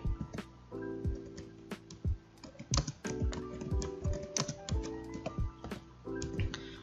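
Typing on a computer keyboard, close and clear, with irregular bursts of key clicks and brief pauses between them over a faint background tone.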